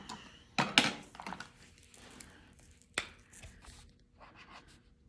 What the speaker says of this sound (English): So let's write our name on the top.